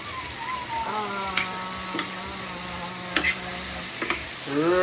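Ackee being mashed in a pot over an outdoor cooking fire for Jamaican run-dung, with a handful of sharp spoon knocks and steady stirring scrapes under a faint, sustained humming tone.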